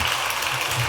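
Steady, dense clapping fills a temple hall as the audience applauds a monk after a dharma talk on the Jijang memorial day. It is brief and even, with no single claps standing out.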